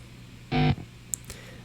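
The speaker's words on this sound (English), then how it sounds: "That's the sound of when you're trying to plug your jack into the guitar" A brief, harsh electric buzz sounds as a cable jack makes contact with an electric guitar input, followed by a quick crackle and a couple of faint clicks over a low hum.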